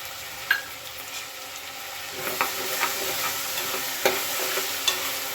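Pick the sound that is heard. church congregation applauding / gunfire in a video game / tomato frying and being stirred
tomato frying and being stirred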